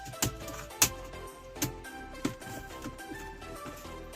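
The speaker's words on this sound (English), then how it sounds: "You have to just push it and you will get a tick sound." A quiet plastic tick as the lower frame of a Volkswagen RCD-320 car stereo snaps into place, with a few sharp isolated clicks spaced across a few seconds against faint background.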